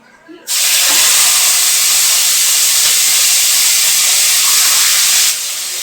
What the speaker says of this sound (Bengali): খুব ভালো করে একটু ভেজে নেব।